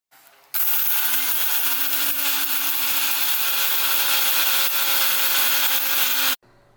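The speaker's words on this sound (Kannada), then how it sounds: "ಒಂದು ಮಿಕ್ಸಿ ಜಾರ್ಗೆ ಈ ಹುರಿದಿರುವಂತಹ ಮಸಾಲೆಯನ್ನೆಲ್ಲ ಹಾಕಿಬಿಟ್ಟು ಒಂದು ಸಲ ಗ್ರೈಂಡ್ ಮಾಡ್ಕೋಬೇಕು" A mixer grinder grinds roasted sambar masala in a jar, switching on abruptly into a loud, steady high-pitched whirr that holds for about six seconds before cutting off.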